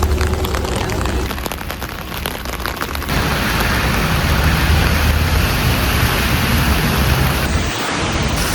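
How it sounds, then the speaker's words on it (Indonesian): Heavy rain pours down in Lecco, a dense, loud, continuous hiss of drops pattering on surfaces close by, steady throughout with no clear voices. "Nyampe Lecco disambut hujan deras."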